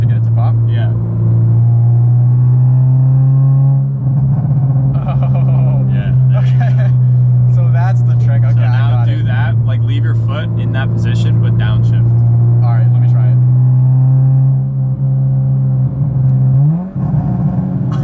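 Modified Subaru BRZ engine held at a loud, steady drone with throttle blips and revving rising near the end, recorded from inside the car while people talk over it.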